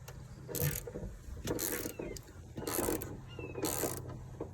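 Ratchet with a 7/16 deep socket working a quarter window bolt on a 1999-2004 Mustang GT, with four short bursts of rapid clicking separated by pauses over a low steady hum, close and without talk.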